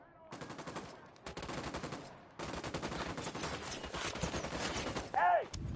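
Sustained bursts of rapid machine-gun fire in a military operation, loud and close, broken by brief pauses, with a shouted voice at the very end.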